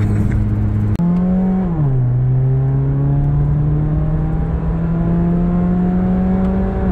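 A Honda Jazz RS fitted with a double Blackcore exhaust revs after a sharp click, a close steady harmonic engine hum dipping slightly and then climbing slowly and evenly in pitch as the car pulls along a straight road.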